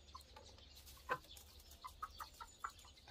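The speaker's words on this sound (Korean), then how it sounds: "닭들이 도망가이네요." Chickens cluck in short, scattered calls as they scatter from a dog in a backyard coop, faint and fairly distant over a quiet background.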